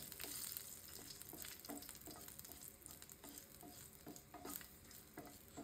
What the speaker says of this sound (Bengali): শুকনা মরিচ একটু ভাজা দিয়ে নেবেন আগে।